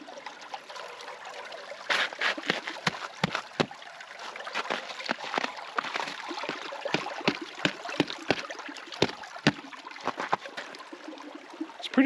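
Water from a stream trickles and gurgles beneath a thin layer of ice, with soft uneven splashes and drips close by in a quiet outdoor setting.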